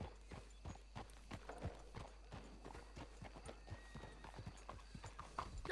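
Steady clip-clop of horse hooves plodding at a walking pace, close and rhythmic, with a low hum and faint background noise.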